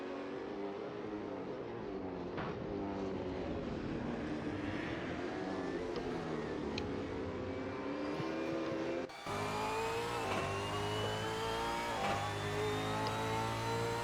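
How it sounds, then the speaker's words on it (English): Race cars drift in a racing video game, engines droning and revving with shifting pitch and tire-like whine, a steady, dense mix that continues throughout with no clear voices. "Oh, we got some more drifts there from Rex"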